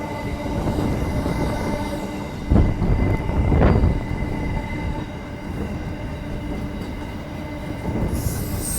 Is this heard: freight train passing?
yes